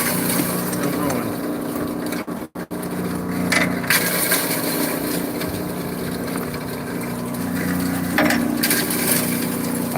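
A hammer mill glass crusher grinds heavy pieces of glass with a loud, steady mechanical roar and rattle, with brief clattering bursts as the glass breaks and a short dip partway through.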